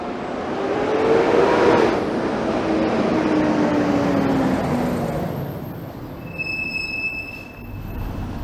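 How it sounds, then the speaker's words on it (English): A 504 King streetcar rolls along King Street East in Toronto on a hot July afternoon. Its steel wheels squeal loudly and steadily as it passes close by, then the sound fades into street noise with faint high tones. No one speaks. "That there is a 504 King streetcar."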